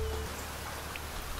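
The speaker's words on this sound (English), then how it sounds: "It's raining right now." Steady rain falling in the survival video game Niche, a soft, even hiss of drops that holds at a constant level throughout with no other sounds over it.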